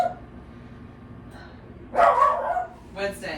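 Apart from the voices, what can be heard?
dog barking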